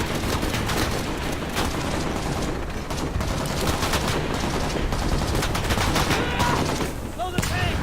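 Sustained gunfire in Shadow of the Tomb Raider, dense rapid shots and bursts overlapping continuously with booming impacts, loud and close, with voices talking over the battle.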